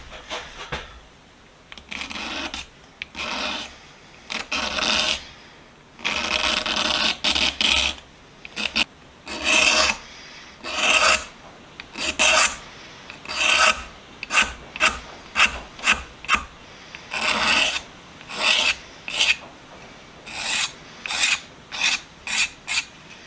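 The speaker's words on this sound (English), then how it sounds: "There's only a little bit of sanding that I got to do for this thing now." Someone sands a wooden hammer handle with rapid back-and-forth rasping strokes, close and loud, in bursts with short pauses between them and no talking.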